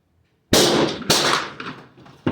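Two sharp, loud gunshots from a Ruger PC Charger 9mm carbine firing Hornady Critical Defense 115 grain ammunition while zeroing, about half a second apart and each ringing out, followed by a fainter report and the start of another at the end.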